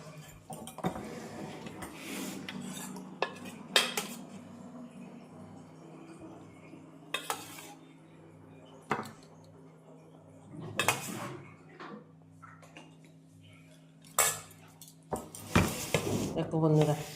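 Cutlery scraping and clinking on dishes during a home meal of pumpkin fritters, eggplant fritters and cauliflower-potato curry, scattered sharp clinks against a steady background hum, with speech at times.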